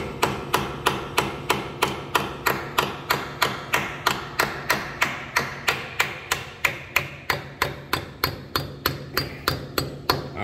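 A stainless steel rail fitting is hammered into a hole during a beach house build, with about thirty sharp, evenly spaced hammer strikes repeating steadily and close by, alone without any talk.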